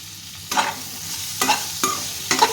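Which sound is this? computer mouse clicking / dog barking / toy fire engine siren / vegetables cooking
vegetables cooking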